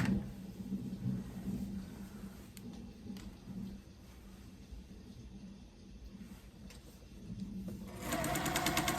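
A home sewing machine runs a continuous, low, steady whir while stitching a quilt, heard fairly quietly and close by, with a few small clicks and a brighter, harsher burst near the end.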